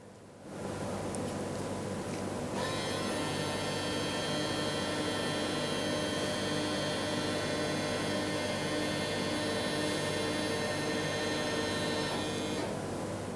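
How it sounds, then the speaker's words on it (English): Both electric parking brake motors on a 2019-2024 Subaru Forester retracting in brake maintenance mode, a steady whirring hum that runs for about ten seconds and then drops off, with nobody talking. "It just retracted both motors, as you heard."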